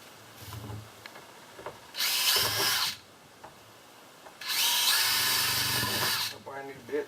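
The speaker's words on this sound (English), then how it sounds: "I know I'm drilling plastic" Power drill fitted with a brand-new sharp bit boring through a plastic roof vent on a teardrop camper, two loud whirring bursts separated by quiet workshop handling sounds, with someone talking in between.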